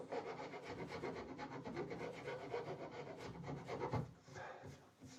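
Steady abrasive rubbing against wood as a custom guitar body is worked by hand with sandpaper, continuous scratchy strokes lasting several seconds, close and fairly loud, easing off briefly near the end.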